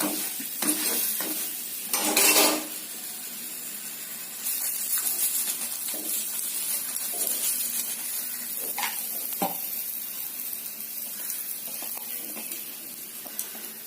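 Aloo paratha cooking on a hot pan, a steady low sizzle and hiss with a few sharper crackles and brief louder bursts as it is turned and pressed, continuous and close with no talking.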